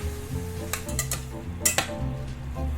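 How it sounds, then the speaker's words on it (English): Tofu scramble being mixed in a pan, with a spatula scraping and clinking against metal in short bursts over a faint sizzle, up close, with background music underneath. "we're gonna make sure to give this a good mix"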